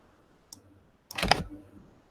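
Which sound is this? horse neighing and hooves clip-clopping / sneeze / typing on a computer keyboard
typing on a computer keyboard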